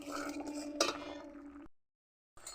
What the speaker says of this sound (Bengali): ভেন্ডি গলছে, হ্যাঁ গলছে, সুন্দর গলছে। একটু নেড়ে চেড়ে দেই।